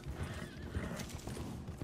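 Horse hooves pound in a quick, steady galloping clip-clop in the Red Dead Online video game, close and loud over a dense rumbling background, with no talking.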